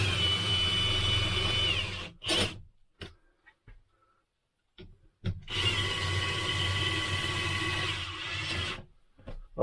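Cordless drill driving screws on a motorhome air conditioner unit in two close bursts of motor whine with brief stops and clicks between them.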